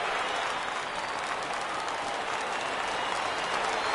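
Crowd in a baseball video game roars steadily at a full 3-2 count, a dense, continuous cheer that stays loud throughout with no pause.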